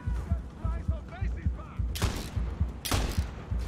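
Rapid gunfire crackles in Far Cry 6, with two sharp, loud bursts standing out over steady low thumping, while a voice murmurs faintly underneath.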